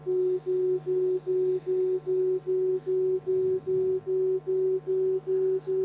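An electronic microtone representing colours from red to orange pulses in a steady, rapid on-off beep pattern, clear and continuous, with a low hum underneath.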